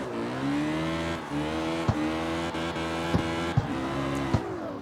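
Hot rod car drifting in the video game CarX Street: a sustained engine drone rises and falls with repeated revs and gear shifts, broken by several sharp clicks, loud and close with no talking.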